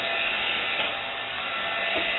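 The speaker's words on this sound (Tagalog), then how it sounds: "Vacuum muna tayo." A vacuum cleaner runs steadily with a continuous whining motor hum, close by and unbroken, with no talking.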